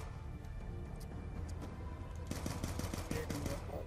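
Pistol gunfire in Black Ops 2 Zombies on the Origins map, a quick run of sharp shots in the last second and a half over a dense, steady game-sound bed.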